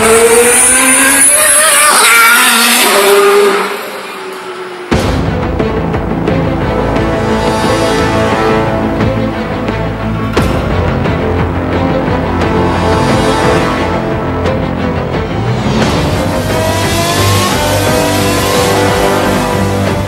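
2014 Formula 1 turbo hybrid race cars roar at high revs, loud and close, with sustained engine whine rising and falling as cars pass, preceded briefly by a higher, quieter passage.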